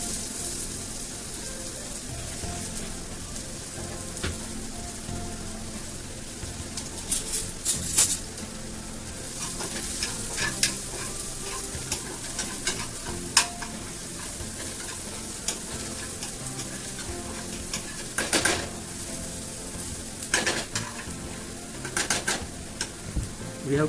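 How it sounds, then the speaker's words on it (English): Chopped onion fries in hot oil in a pan for Mumbai-style egg bhurji. A continuous soft sizzle runs underneath, with occasional louder clinks and scrapes from stirring and birds cooing faintly in the background. "so I will fry this onion now"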